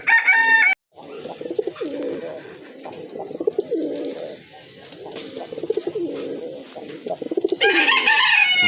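Deep red crested pigeons coo close by in soft, repeated rolling phrases through the middle, with someone speaking at the start and end.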